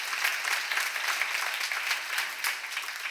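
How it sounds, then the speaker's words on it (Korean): A church congregation applauds during a sermon, a dense, steady wash of clapping from many hands that holds for a few seconds without pause, with no voices standing out above it. "박수를 하세요."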